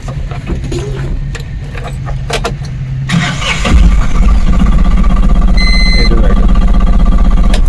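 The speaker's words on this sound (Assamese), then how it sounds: "এবাৰ গাড়ীটো আপোনালোকক ষ্টাৰ্ট দি দেখাই দিছোঁ" A used Tata Ace mini truck, a small goods carrier with about 64,000 km on it, cranks and catches midway, then settles into a loud, steady close-up idle that rattles to the end.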